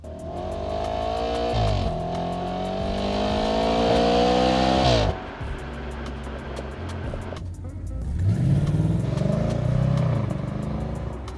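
An Audi RS5 V8 engine, able to redline at 8,300 RPM, revs hard while driving, climbing in pitch through the gears with a sharp shift break midway, loud and close from inside the car.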